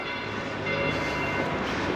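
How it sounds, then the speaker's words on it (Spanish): Church bells ringing the seven o'clock evening hour in the town centre of Vilches, near the church and town hall, a steady wash of pealing tones sustained throughout with no talk. "Las campanas de la iglesia de las 7 de la tarde."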